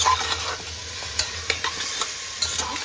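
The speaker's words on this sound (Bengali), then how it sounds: "এবার লবণ দিয়ে একটু ভালোভাবে একটু ডাঁটা আলু মিশিয়ে নিচ্ছি মশলার সাথে" Vegetable stems and potato with salt are stirred into spices in a pressure cooker, giving a steady close sizzle broken by a few scraping spoon strokes, with no talk.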